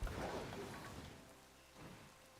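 Rain falling in the video game Pokemon Scarlet and Violet: a soft, steady wash of rainfall with a brief swell near the start and another toward the end, quiet and with no voices.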